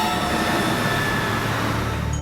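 A train at a railway station near a town, a steady loud rumble with humming tones throughout, close and continuous, with no voices.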